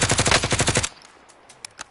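Rapid gunfire in the Warzone battle royale game, a fast burst of about ten close, loud shots in the first second, followed by a few scattered distant pops.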